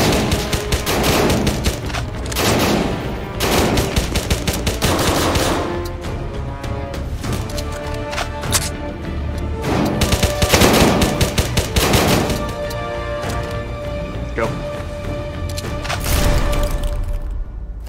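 Dense gunfire in the VR tactical military shooter Tactical Assault, with rapid bursts and single shots cracking close and loud in quick succession, almost without pause, over a constant backdrop of game noise.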